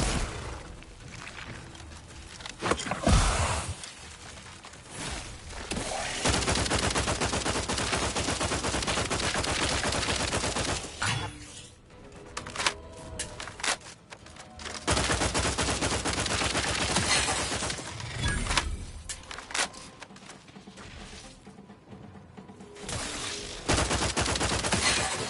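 Sustained automatic gunfire in the video game The Outer Worlds 2, dense loud bursts with brief lulls and a few sharp impacts, continuing for long stretches.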